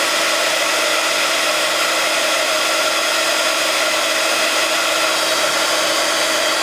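Embossing heat tool warming embossing powder, a loud, constant fan-driven whoosh with a steady motor whine, running unbroken from start to finish close by.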